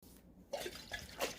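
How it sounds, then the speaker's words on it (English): Water splashing and swirling inside a glass jar being rinsed out in a home kitchen, a short faint burst of liquid sloshing with a couple of brighter splashes. "Rinse out that jar."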